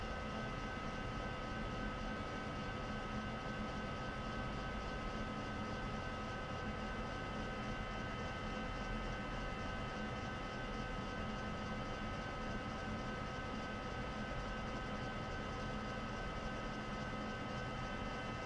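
A lathe turns a brake rotor under longitudinal feed, giving a steady, continuous mechanical drone with a constant hum throughout, uninterrupted and with no voices.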